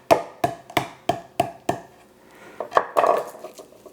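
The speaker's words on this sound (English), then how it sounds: "we are going to bash with the back of a knife the" Lemongrass bashed with the back of a knife on a board: six evenly spaced sharp thwacks, then a short pause and a looser cluster of blows, close and loud with no talking.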